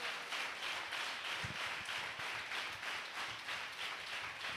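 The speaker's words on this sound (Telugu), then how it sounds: "యేసుని ఘనపరుస్తూ గట్టిగా చప్పట్లు కొట్టండి" A church congregation claps loudly in praise of Jesus at a Sunday service, a steady dense patter of many hands filling the room without a break and with no talk over it.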